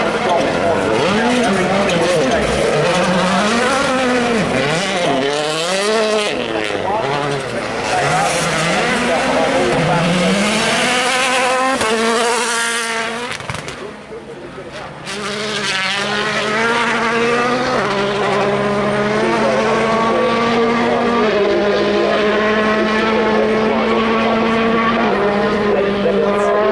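Rally car at Wales Rally GB Rally of Legends 2018 sliding sideways across a bridge on a stage and then climbing a long hill, engine loud and revving through gear changes, with a commentator talking over it throughout.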